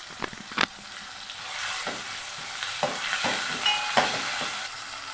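Tomatoes with curry leaves, coriander and mint fry in a pan for a mutton kulambu, a soft sizzle running under repeated sharp scrapes and clinks of a spoon stirring, close and alone.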